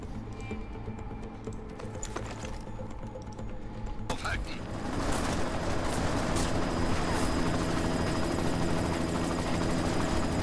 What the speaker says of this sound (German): Einsatzteam, erledigt den verdammten Helikopter!